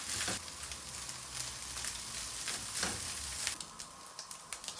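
Ground beef frying in a pan for Chinese-style noodles, a steady close hiss of sizzling fat with occasional sharper pops and spatters, heard without speech.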